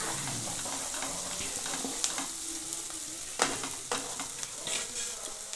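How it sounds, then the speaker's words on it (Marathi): Masala and grated coconut roasting in oil in a pan give a steady close sizzle and frying crackle, with a few sharp scrapes and stirring knocks from the spoon partway through. "व्यवस्थित सगळं भाजून घ्यायचं, चांगलं तेल सुटेपर्यंत मसाला भाजून घ्यायचा।"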